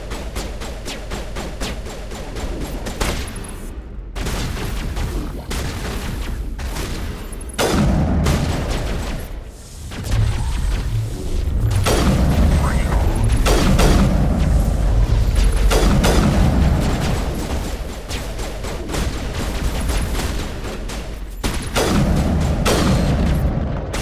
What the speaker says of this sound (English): I guess they're shooting up the fireworks.